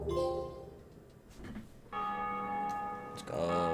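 The Bell of Awakening rings in Dark Souls, giving two loud, resonant metallic tolls with long ringing overtones, the second strike following the first after a short pause.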